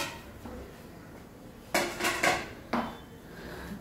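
A pressure cooker being set down on a gas stove gives a few clanking metal knocks, three or four close together near the middle and another shortly after, loud and near over a quiet kitchen background.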